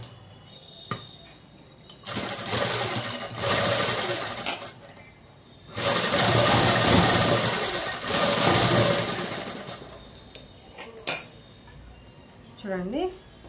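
A sewing machine stitches lehenga-style long frock fabric in two sustained bursts of rapid mechanical whirring, near and moderately loud, with quieter pauses between and a voice speaking briefly.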